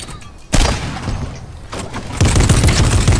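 Gunfire in a first-person shooter game, loud bursts of shots starting abruptly and continuing in a dense rattle with a second heavier volley near the end, no talk over it.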